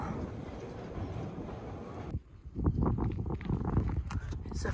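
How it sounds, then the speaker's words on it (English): A train rumbles past in the Lake District with a steady roar, then rattling, clattering wheel noise takes over, fairly distant and moderately loud. "There goes train."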